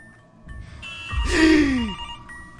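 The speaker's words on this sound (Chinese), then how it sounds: "哎，电话响了。" A telephone rings once inside the horror video game Mr. Hopp's Playhouse, a loud synthetic ring swelling over a low ambient game drone.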